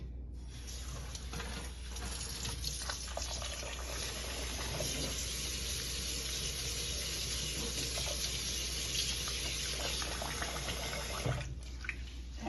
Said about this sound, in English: So I'm gonna rinse it off a little bit.